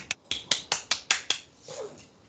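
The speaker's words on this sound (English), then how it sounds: "someone's clapping loudly" Sharp hand claps from one person, about seven quick loud hits in an even rhythm close to the mic, followed by a softer murmur.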